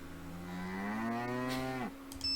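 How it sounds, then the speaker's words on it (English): A cow moos in one long, loud, sustained low call that drops away sharply at the end, from the video game Nancy Drew: The Deadly Device. "Cow."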